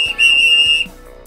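A single sharp, shrill whistle blast, loud and close, held for under a second before cutting off.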